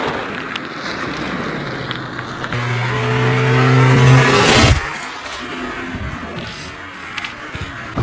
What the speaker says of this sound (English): how it fares against a car running it over